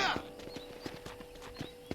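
Horse hooves clip-clopping in Red Dead Redemption, a steady rhythmic run of close hoofbeats with a brief whinny near the start, over a faint game background.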